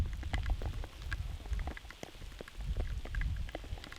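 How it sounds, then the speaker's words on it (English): Steady rain patters and drums on a surface amid wind on the Feuerkogel mountain in Austria, dense and continuous with scattered louder drops, no voices. "All you hear is the wind and the rain."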